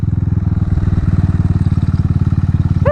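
Motorcycle engine idling close by, a loud, steady rapid chugging pulse held evenly, with a brief rising squeal near the end.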